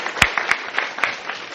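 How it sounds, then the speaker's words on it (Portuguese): A class audience gives a volunteer a short burst of scattered applause, a few distinct nearby claps standing out over a thinner patter. "Palmas para ela aí pela voluntariedade."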